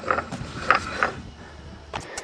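Metallic grinding and clunking as a Buick Century's damaged axle turns with the wheel, part of the axle turning while the other part doesn't, with a few sharp creaks and knocks spaced irregularly, fairly close and moderately quiet.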